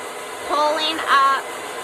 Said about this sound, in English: moving the blow dryer at the same time